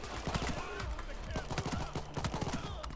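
Rapid pistol gunfire in the Fear and Greed DLC video game, a dense run of close, sharp shots fired in quick succession for the whole stretch.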